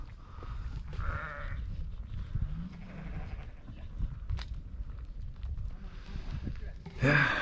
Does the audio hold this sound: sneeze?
no